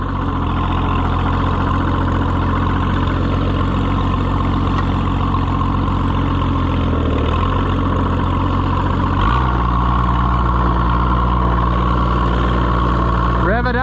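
Oliver 77 tractor engine running steadily at idle with a low, heavy drone and a faint recurring pecking knock, close and loud, with a slight change in engine note partway through.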